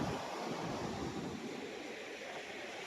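Water rushes through two open sluice shutters of Veeranam Lake, a constant broad roaring wash that stays even and moderately distant throughout, with no talking.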